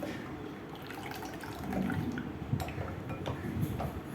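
Coconut milk for solkadhi being squeezed through a large strainer, a steady wet trickle and splash of liquid with soft handling noises and a few light clinks, close and moderately quiet.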